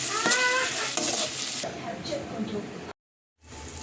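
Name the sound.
frying tomato masala with coriander powder and chili powder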